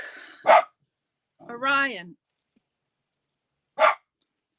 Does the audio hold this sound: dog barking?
yes